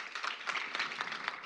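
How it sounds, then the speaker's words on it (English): An audience bursts into a short round of applause at the close of a talk at a public health event, a dense patter of many hands clapping at moderate volume. "Round of applause"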